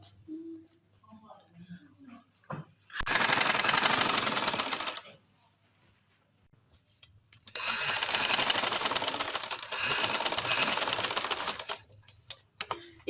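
Sewing machine stitching a summer trouser with black anchor thread, running in two loud sustained bursts separated by a quiet pause with soft handling noises.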